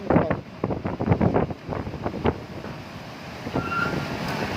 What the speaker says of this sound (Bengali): আয় আল্লাহ, প্রচুর বাতাসে ভাই